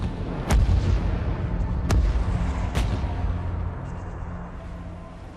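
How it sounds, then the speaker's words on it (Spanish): Battleship cannons firing explosive charges: three heavy booming blasts at roughly one-second intervals, each rolling into a deep rumble that slowly fades. "Cada cañón usa hasta 6 de estas cargas explosivas de 15 kilos para disparar un único proyectil."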